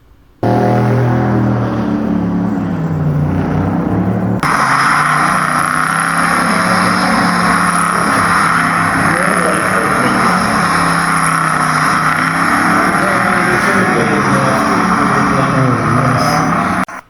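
A Factory Five kit car engine starts with a low idle, then jumps to a loud sustained high rev that holds for over ten seconds before cutting off, heard close and alone.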